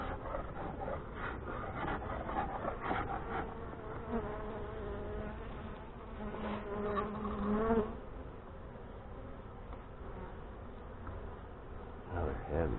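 Saskatraz honey bees humming around an open hive during a fall inspection in northwest Wisconsin, a faint steady drone with frames scraping and rubbing, while someone talks over it.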